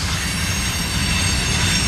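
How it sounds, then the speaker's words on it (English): A Norfolk Southern freight train backs up along the rail line near Alliance, giving a steady, loud rumble of rolling wagons with grinding wheel noise and faint squeal throughout, close by and without talk. "reverse move with 17 ends train, going back west"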